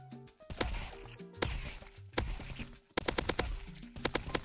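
Sharp gunshots from Counter-Strike 2 crack out in quick clusters of several shots each, separated by brief gaps, close and punchy over faint game music.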